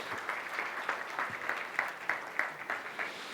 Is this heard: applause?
yes